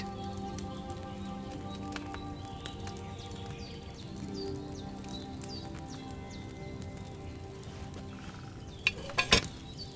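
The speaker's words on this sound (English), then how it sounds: "Hear that bubbling? It's boiling." A potion cauldron over a flame in Kingdom Come 2 bubbles softly and continuously at a low level, with faint ambient game sounds and a few sharper clinks near the end.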